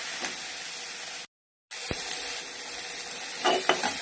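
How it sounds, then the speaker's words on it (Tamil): Ginger-garlic paste with turmeric sautéing in a pan for pepper chicken, a steady close sizzle and hiss with a short break of silence and a few scraping stirs near the end. "நல்ல மசாலா வதங்கிட்டு நல்லா பச்சை வாசனை போகணும்"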